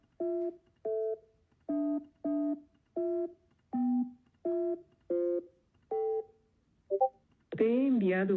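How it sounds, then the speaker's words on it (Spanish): Phone keypad dialing tones as a phone number is entered into an automated virtual assistant line: ten short, evenly spaced beeps, clear and alone, followed by a brief electronic chirp and a longer sound at the end. "Por favor, ahora digita tu número de teléfono seguido de la tecla numeral."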